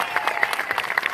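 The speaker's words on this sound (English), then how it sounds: "Give Sam a round of applause" Rally crowd at a health care event at Roanoke College applauds for Delegate Sam Rasoul, a short burst of distinct, rhythmic claps heard fairly close and loud.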